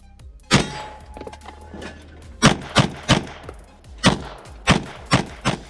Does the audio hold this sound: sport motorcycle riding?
no